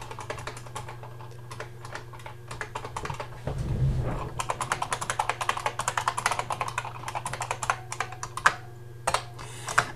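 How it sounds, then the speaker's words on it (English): Typing on a clattery IBM Model M keyboard, a dense run of sharp, loud key clicks close up, with a brief thump partway through and a low steady hum beneath. "an IBM Model M would be ideal for a stimmer, but not so ideal for the people around them, because kind of the clatteriness of the keyboard"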